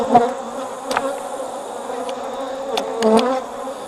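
Honey bees buzzing around their beehives during a winter hive inspection, a close, steady droning hum with a few louder passes as individual bees fly near.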